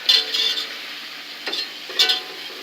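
Onions cooking with butter and flour in a pan give a soft sizzle, broken by a few short stirring scrapes that come through as brief bright bursts against a quiet background.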